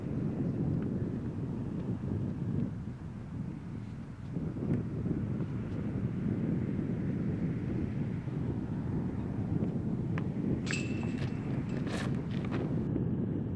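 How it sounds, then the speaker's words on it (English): Strong wind blowing across an open outdoor disc golf course during a tournament final, a loud continuous roar buffeting the microphone throughout, with faint scattered clicks near the end. "And you can hear that wind ripping"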